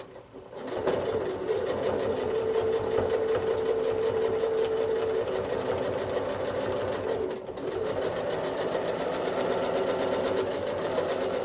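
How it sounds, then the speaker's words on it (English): A sewing machine doing free motion quilting on an earth flower design runs slowly and steadily for the whole stretch, a close, continuous whirring stitch with one brief dip partway through. "hopefully you can hear just how slowly I'm running my machine as I get to that tip"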